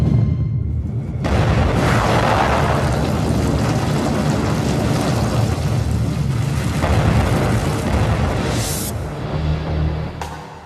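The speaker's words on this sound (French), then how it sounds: "Mais pourquoi cette détonation a-t-elle eu lieu?" A documentary sound effect of a torpedo explosion aboard the Kursk submarine gives a deep, sustained roaring boom with heavy low rumble that swells, holds for several seconds and slowly fades.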